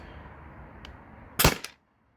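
Byrna launcher firing a nylon ball over a chronograph, a single sharp pop with a quick rattling tail, close and loud against a quiet room, followed by silence.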